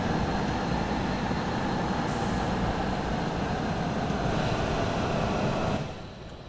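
Train rumbling along in Train Simulator 2018, a steady loud broadband roar of wheels and motor that holds for several seconds, then drops sharply in level near the end as the brakes come on.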